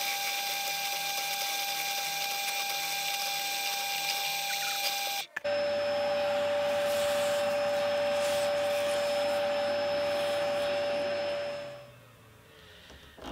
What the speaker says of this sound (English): Now the 6mm drill. I think I've got this lined up,